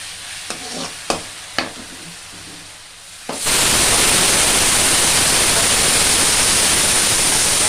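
A few light taps and clinks, then a sudden loud, steady sizzle of spices tempering in hot oil that crackles on without pause.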